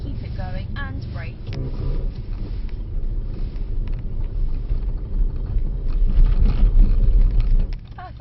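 A Mercedes car brakes hard from around 30 mph to a stop on a loose surface, giving a loud, steady rumbling roar that swells near the end and then drops away, with voices talking over it.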